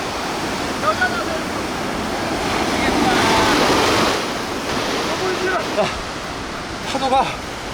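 Ocean surf breaking on a pebbly shore, a steady rushing wash of waves swelling and fading, close and loud, with faint wind and brief voices in the background.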